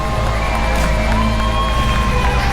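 A kickboxing arena crowd at a KC40 fight between Samuel Ericsson and Alberto Ramirez reacts unhappily to a split decision, a loud, steady wash of massed voices that fills the whole moment.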